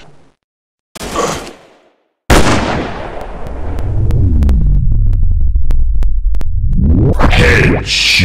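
Sniper rifle shots in an army shooting video game: a sharp blast, then a heavier booming shot whose low rumble rolls on for several seconds, with brief clicks over the tail and another burst near the end.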